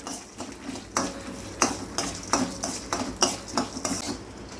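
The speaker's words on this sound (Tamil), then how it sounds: "நம்ம இதை வந்து பொன் நேரமாக வறுத்து எடுத்துக்கலாம்" Ingredients roasting in a little oil in a pan until golden, for a yellow pumpkin kulambu, with rhythmic scraping and clinking strokes of a spoon against the metal over a faint sizzle, close and steady, no talk.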